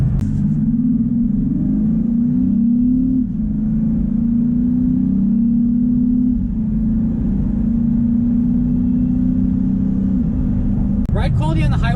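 A 2019 Honda Ridgeline pickup accelerates through its 6-speed automatic, its engine drone climbing steadily with brief dips at gear changes, heard from inside the cabin under a steady low rumble, with a short burst of talk at the end.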